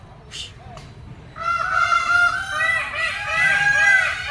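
A flock of geese honks loudly at Karanji Lake in Mysore as rain falls, with a quiet start giving way to dense, overlapping calls that carry on without pause.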